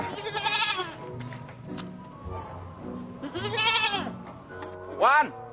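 Goat bleating in short wavering calls, three or four bursts spaced across a few seconds, close and fairly loud over background music and ambient sound.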